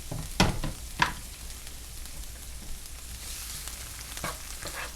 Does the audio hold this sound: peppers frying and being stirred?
yes